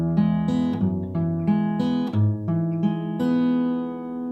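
Acoustic folk guitar fingerpicks part three of Shoals of Herring, with bass notes and ringing chords plucked in a steady lilting pattern, close and clear, unaccompanied by speech.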